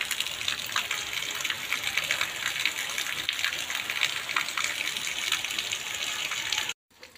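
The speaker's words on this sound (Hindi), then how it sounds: "ये देखिए, ये बहुत ज़्यादा बारिश हो रही है," Heavy rain pouring down in a village, a steady dense roar of water that stays loud and unbroken before cutting off abruptly near the end.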